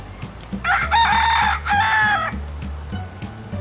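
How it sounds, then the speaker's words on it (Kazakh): A domestic rooster gives one loud, close crow, a long drawn call with a short dip in the middle, over a low steady background hum. "Таң атқанда әтеш кукарику деп шақырып,"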